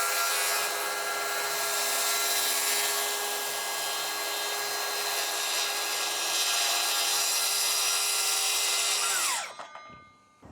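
Power saw cutting off excess wood during renovation of a 100-year-old house, a steady loud rasping cut that runs continuously for about nine seconds, then stops abruptly as the blade winds down.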